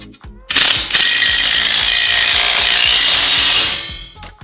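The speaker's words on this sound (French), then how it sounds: "on récupère la visseuse à choc et la douille de 13" An impact driver with a 13 mm socket drives a concrete screw through a metal floor rail into a concrete slab, producing one loud, continuous hammering burst lasting a few seconds, very close.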